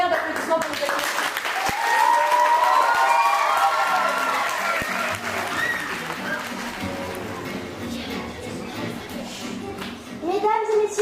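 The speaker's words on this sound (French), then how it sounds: "je vous demande un tonnerre d'applaudissements pour vous accueillir" A theatre audience applauds to welcome performers at an international dance course show, steady loud clapping with crowd noise throughout and voices mixed in.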